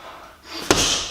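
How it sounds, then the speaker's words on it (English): A strong punch lands on a heavy free-standing punching bag, one sharp close thud followed by a rushing rumble as the bag is knocked over. "with a nice and strong punch, you should be able to deliver your body momentum through the target and be able to knock down this bob"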